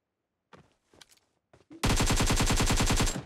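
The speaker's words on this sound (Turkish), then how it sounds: "Evet, silah sesleri başladı." Automatic gunfire in the mobile battle royale game PUBG Mobile bursts in loud and continuous after a few quiet clicks and brief sounds, a rapid rattling volley lasting over a second.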